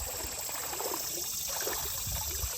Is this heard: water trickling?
yes